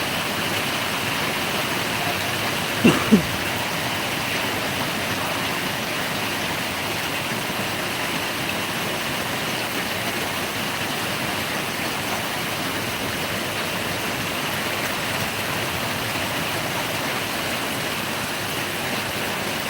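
Heavy rain falls in a dense, unbroken rush that stays loud and even throughout, with one brief knock early on.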